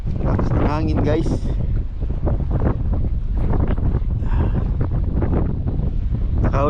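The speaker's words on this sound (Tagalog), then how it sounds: "Lakas ng hangin guys." Strong sea wind on a fishing boat out after barracuda roars steadily against the microphone, constant and loud, with a voice talking underneath.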